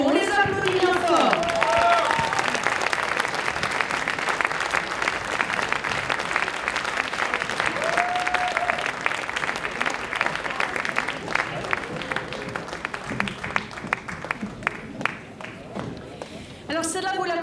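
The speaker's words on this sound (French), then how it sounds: "On les applaudit bien fort." Audience applause for two choir singers on stage at a pop-up choir concert, a dense, steady roar of clapping with crowd noise throughout, voices and brief sung or called tones mixed in.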